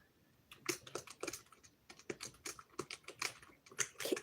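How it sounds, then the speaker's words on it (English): Someone typing on a computer keyboard, a quick irregular stream of light clicking keystrokes close by, with short pauses between bursts and no talking. "Let me bring my keyboard closer to me."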